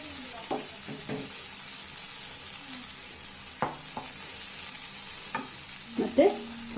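Cooked rice with fried egg being stirred in a hot pan, giving a soft steady sizzle broken by a few scraping, clanking strokes of the spatula, with a louder cluster of stirring knocks near the end; nobody talks.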